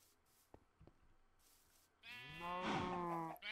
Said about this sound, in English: Look at all of these sheep.